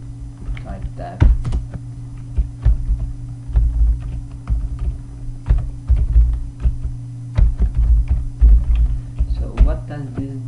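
Keys clatter in irregular bursts as code is typed on a computer keyboard while programming an STM32F103C8 microcontroller, close and fairly loud over a steady low electrical hum.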